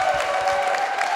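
An audience at a Lindy Hop discussion event applauding and cheering, a steady wash of clapping with scattered whoops throughout.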